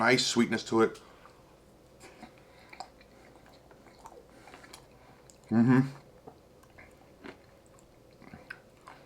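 Close, wet chewing of crunchy Barbie Frosted Cupcake ice cream with scattered small crunches, broken by two short bursts of murmured voice near the start and middle.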